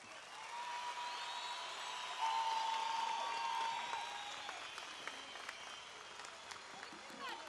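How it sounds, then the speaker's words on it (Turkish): An audience at a Turkish Olympiad event in Tekirdağ applauds in a soft, sustained wash of clapping heard from some distance, while a voice and faint tonal sounds run through it. "Bu alkışlar bana yetmedi."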